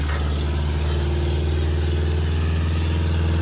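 A Massey tractor engine runs loud and close with a steady low diesel drone and rhythmic clatter, holding an even idle throughout with no voices.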